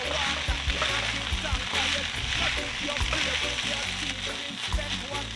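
Fried rice with green onion being stirred in a hot pan, a steady loud sizzle with scraping and tossing strokes throughout, no speech.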